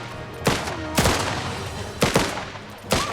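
Gunfire in the video game Last Train Home, four loud sharp rifle shots spaced about a second apart, each with a short echoing tail, over a quiet ambient background.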